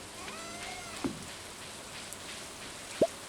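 Steady soft rainfall in the farming video game Stardew Valley, a quiet even patter with a couple of faint isolated blips, no voices.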